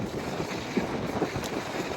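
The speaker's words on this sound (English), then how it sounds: "Oh man, it's another windy day" Steady wind buffets the microphone with a rough, rumbling roar throughout, fairly loud and continuous.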